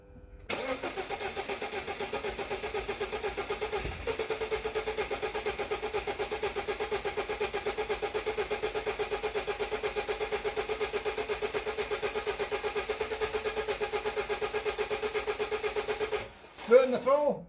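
BMW Z3 engine, a barn find, cranking steadily for about sixteen seconds without catching despite starting spray, with a rhythmic starter-motor churn close by, then a brief burst of noise at the end.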